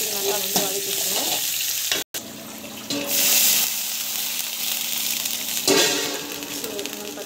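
Steady sizzling and frying in a pan with occasional stirring scrapes, fairly loud and continuous, with a brief cut partway through.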